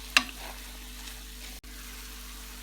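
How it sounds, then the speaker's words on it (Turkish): Chopped red and green peppers and garlic fry in a pan, a faint, steady sizzle with a short scrape of stirring at the start. The sound is quiet and close, with no voices. "doğradığımız biberleri, kırmızı yeşil biberi ve sarımsağımızı alıp hepsini tekrar karıştıralım. Biberlerimiz yumuşayana kadar pişirelim."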